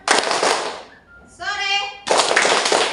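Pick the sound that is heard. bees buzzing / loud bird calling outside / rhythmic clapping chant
rhythmic clapping chant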